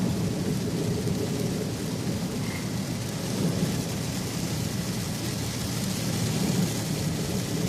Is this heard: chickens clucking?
no